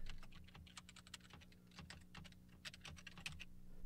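Fingers type quickly and steadily on a computer keyboard, the soft clicks coming close and fairly quiet with no voices.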